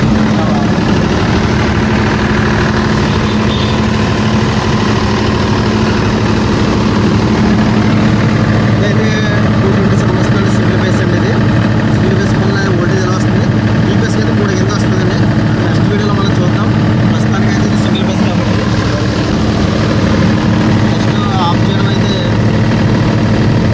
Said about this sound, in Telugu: ఇప్పుడైతే నేను ఇంజిన్ ఆన్ చేస్తానండి